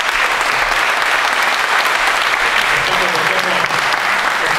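Dense, continuous applause from an audience at an Italian mayoral candidates' debate, loud and even throughout with no pauses and no voices cutting through.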